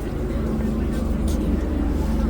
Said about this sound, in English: There's an annoying but perhaps necessary helicopter hovering above, hence the noise.